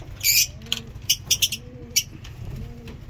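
Pigeons in a breeding cage give soft, low cooing calls, a few short bursts close by with brief pauses between them.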